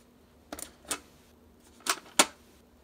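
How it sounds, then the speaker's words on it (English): A DYMO label printer prints a label: a few short, separate mechanical bursts of printing and feeding spaced across a quiet room, with no talking. "Well, let's go ahead and print."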